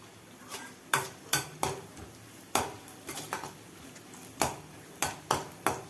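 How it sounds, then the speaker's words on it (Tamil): A spatula clinks and scrapes against a pan in sharp, irregular taps while cashews are stirred and roasted, close by and otherwise quiet. "முந்திரியை போட்டுட்டு அதை வறுத்து எடுத்துக்கிறோம்"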